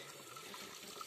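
Spring water pours steadily out of a pipe in a village, a continuous close rushing wash with no pauses.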